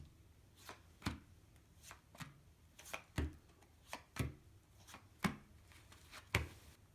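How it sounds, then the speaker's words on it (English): Blackjack playing cards are dealt onto a table as a series of soft, sharp flicks and slaps, about a dozen, spaced unevenly, close and quiet with no talking. "we're dealing the cards"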